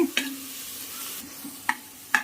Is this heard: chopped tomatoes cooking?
yes